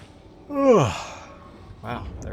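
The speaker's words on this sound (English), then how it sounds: "there comes the yawns" A single drawn-out human yawn with a falling, voiced pitch, near and fairly loud, fading into quiet breathing, followed by a softer exhale near the end.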